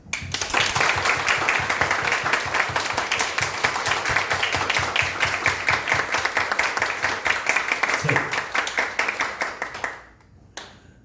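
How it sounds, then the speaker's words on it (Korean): A church congregation claps together in thanks to God at the end of a Pentecost Sunday service, with brisk, steady, fairly close group clapping for about ten seconds before it abruptly stops. "시작하면 우리는 박수로 하나님께 감사를 드리는 겁니다"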